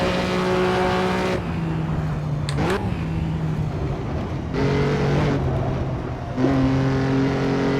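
A racing car engine in the Assetto Corsa video game on the 1957 Aintree circuit drones loudly and continuously, with several gear shifts and pitch changes as it accelerates and lifts off.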